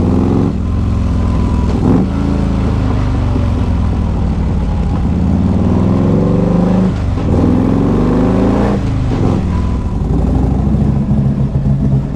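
A car engine with a slightly rough idle idles loudly up close, then revs twice, each rev climbing and falling back, with no talking.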